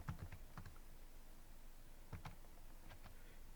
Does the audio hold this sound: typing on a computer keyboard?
yes